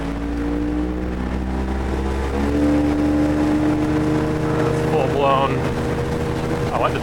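A family motorboat's engine runs hard at wide open throttle, a steady loud drone with rising harmonic tones as it picks up speed, with a voice talking over it partway through.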